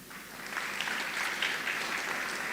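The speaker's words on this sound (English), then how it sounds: "Please give our Dean's List awardees a big, resounding round of applause as they sit." A graduation audience at a St. Lucia ceremony claps together in a sustained round of applause that swells after a moment and holds steady at medium distance, with no one speaking over it.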